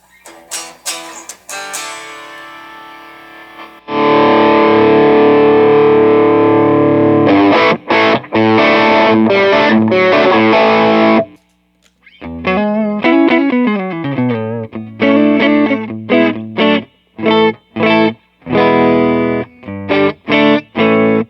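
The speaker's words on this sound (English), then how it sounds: "here's me running the treble like I normally would on an amp, and bringing the bass up, and I'm going to just kill the reverb on it" Electric guitar played through a Nace M3-7R combo amp with the treble turned down, the bass turned up and the reverb off: loud distorted chords and riffs, with a sustained stretch, a short pause, then choppy staccato phrases.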